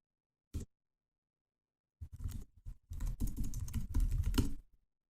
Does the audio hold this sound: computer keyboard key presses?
yes